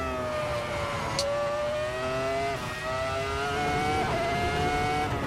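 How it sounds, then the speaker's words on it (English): Formula 1 race car engine in a racing video game at the Austria circuit, held on light throttle: a steady, loud, high-pitched whine with small pitch dips and shifts, running continuously with no voices. "Having to hit the throttle just a tiny bit to get less rotation so we don't spin out."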